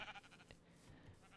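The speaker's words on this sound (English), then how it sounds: "Sheep. I don't need them." Sheep bleating in a desert-temple Minecraft-style game, a couple of short faint bleats over quiet game background, with no talk.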